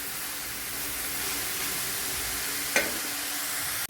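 Kaathu keerai greens wilting in hot oil in a pan give a steady, even sizzle throughout, broken once by a single sharp utensil click near the end.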